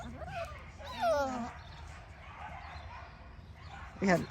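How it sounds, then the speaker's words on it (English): Schnoodle puppies yip and whimper in a few short bursts, with one sharper bark near the end, set against quiet background noise. "The dogs are really barking."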